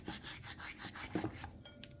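Dried oregano leaves are rubbed together between the hands, producing a soft, close, dry rustling in repeated short strokes.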